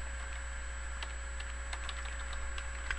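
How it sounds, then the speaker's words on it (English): Computer keyboard typing, with light scattered key clicks in short bursts over a constant electrical hum and tones, no talking. "you're going to type in CUDAMiner.exe"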